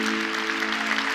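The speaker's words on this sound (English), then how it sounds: "Would you please welcome to the stage with a huge round of applause some Trellis team members." A conference audience at the VERGE 24 event applauds as Trellis team members come up on stage: a dense, even wash of clapping that fills the moment, with a faint held tone running underneath.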